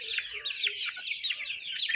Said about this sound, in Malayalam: നല്ല ഹെൽത്തി കോഴികളാണ്.